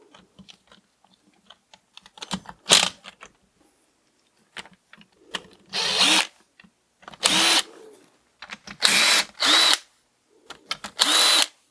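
Power tool bursts loosening bolts on a Honda CB250RS engine crankcase in a workshop: several short, loud whirring runs with quiet gaps and small clicks between, no talking.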